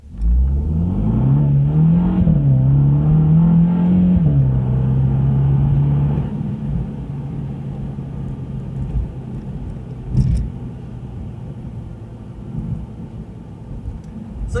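A 2021 MINI GP car engine revs and accelerates loudly for several seconds, pitch rising and wavering, then drops back to a lower rumbling drone.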